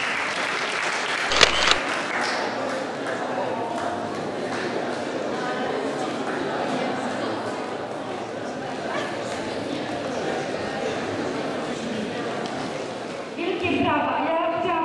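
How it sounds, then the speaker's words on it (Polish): A school audience at a Halloween event claps loudly and continuously for the whole stretch, a dense crowd applause with a sharp burst near the start and a fresh surge at the end. "Wielkie brawa."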